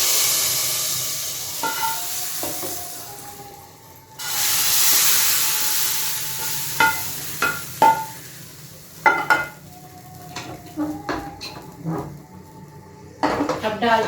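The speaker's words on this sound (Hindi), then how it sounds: "अब लगाने लगी हूँ इसे जीरे का, लहसुन का और कश्मीरी रेड चिली का तड़का डाल देती हूँ इसमें।" Cumin, garlic and Kashmiri red chili are tempered in hot oil in a home kitchen, giving a sudden loud sizzling hiss that slowly settles. Pot and utensil clinks and a voice sound over it.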